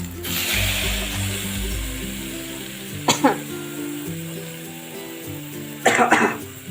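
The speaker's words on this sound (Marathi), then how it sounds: "हा तडका आहे ना असा व्यवस्थित याच्यावरती मारायचा" Hot tadka tempering poured over veg biryani in a pressure cooker, giving a steady hiss and sizzle with two short louder bursts of crackle; voices talk faintly underneath.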